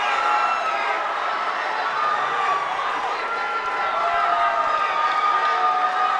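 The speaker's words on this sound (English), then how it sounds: "The crowd's going pretty wild right now" An arena crowd at an MMA women's bout roars and cheers in a dense, sustained wash of shouting and whooping, loud and continuous with no break.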